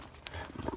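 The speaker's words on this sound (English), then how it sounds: "Oh, it's a horse." Horse hooves clip-clop faintly on an evening walk in the countryside, a few uneven steps heard at a distance among outdoor rustle.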